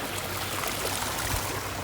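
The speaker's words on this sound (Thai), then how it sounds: "น้ำไหลโจกโจกโจกยู่พี่น้องนะครับ ฝนตกบุญยุดเลยครับ" Steady broadband rush of water flowing and trickling in rain, continuous and fairly close, with no voices.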